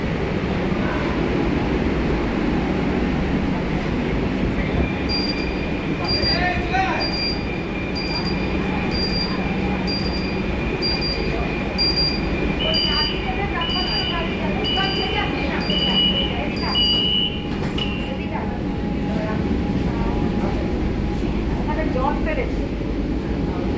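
A Kolkata Metro train runs on the Taratala–Joka line with a steady, close rumble of carriage and track, with high electronic tones and faint voices partway through.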